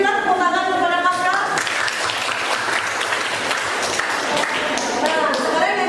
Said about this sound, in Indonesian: Berilah tepuk tangan kepada Pasca.